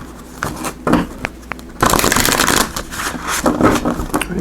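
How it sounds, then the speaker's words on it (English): Oracle cards are shuffled by hand, giving soft riffling flutters and light slaps that swell into a dense continuous shuffle, close and fairly loud. "So we'll do just a quick shuffle."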